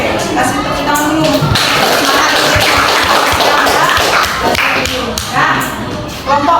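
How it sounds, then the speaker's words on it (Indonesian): Schoolchildren in a classroom clap their hands together. The dense, loud, ragged clapping carries on for several seconds, with some shuffling and voices mixed in. "kasih tepuk tangan dulu."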